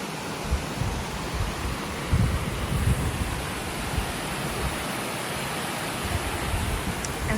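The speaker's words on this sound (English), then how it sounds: "And then you've got the weir and the waterfall." A weir and waterfall in the Yorkshire Dales: a continuous broad rush of falling and flowing water, steady and moderately close, with slight surges and no voices.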